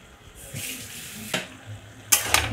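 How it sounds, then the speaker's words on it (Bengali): Labra vegetables dusted with flour are stirred in a pan, giving soft scraping sweeps and a light sizzle, with two sharper scrapes near the end, close and moderately quiet. "ভালো করে নেড়ে নেব।"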